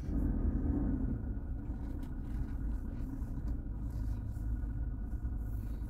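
A Toyota Hilux Power Pack with a 2.8 turbo diesel engine running at a steady idle, a close, even low rumble that holds for the whole stretch without revving.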